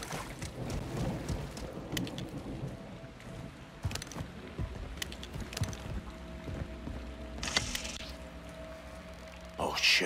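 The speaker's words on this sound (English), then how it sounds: "It's raining fucking hard." Heavy rain hisses steadily in Call of Duty: Modern Warfare 2 (2022), with sharp cracks and rumbles of thunder breaking through at intervals and voices talking over the downpour.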